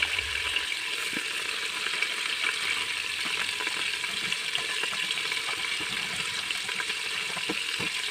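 Chicken pieces frying in butter in a pan for a Ramadan tlitli dish, giving a steady, soft broadband sizzle with faint crackles throughout and no voices.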